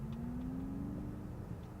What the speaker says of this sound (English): So that is the sound of the engine RPM that is being emulated.